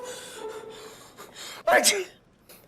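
A person sneezes once, a sharp burst after soft breathy sounds, close and fairly loud; he is feeling unwell before a trip to an air-conditioned office.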